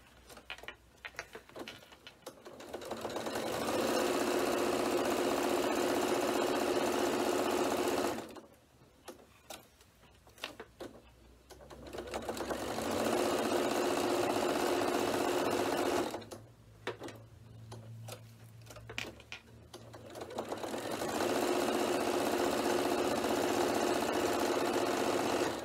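A sewing machine whirs around the layers of a fabric bag on a long stitch length, in three sustained runs of steady motor hum separated by short pauses with faint clicks.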